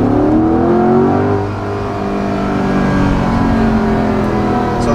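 A 2020 Chevrolet Corvette Stingray 1LT Convertible accelerates hard, its engine note climbing steadily and dropping briefly at a gear change before rising again, loud and close, with no talk.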